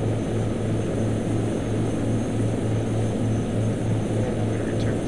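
A Shergood S-61R helicopter in a video game, a loud continuous rotor and engine drone with a steady low pulsing beat, close and unchanging throughout, no voices.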